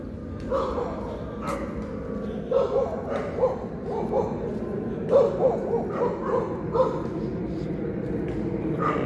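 Dogs bark repeatedly near a main entrance gate in a residential colony in Gurugram, Haryana, irregular yapping bursts of varying loudness over street background noise.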